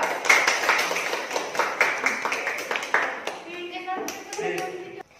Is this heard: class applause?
yes